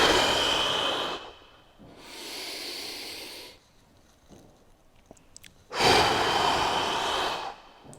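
Deep breaths in and out during a lower back stretch, loud airy exhalations in three long surges separated by quieter inhales, close to the microphone.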